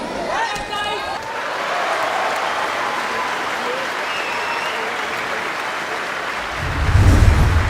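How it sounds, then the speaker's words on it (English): A gymnastics team cheers and applauds a gymnast before her second attempt at a league event: steady clapping with voices and shouts, a brief burst of cheering early, then a louder swell near the end. "Vidisha getting ready for her second attempt and the blue bombers cheering her on."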